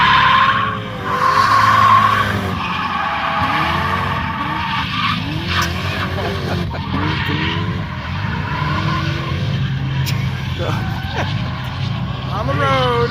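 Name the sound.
car skidding while driven on a road course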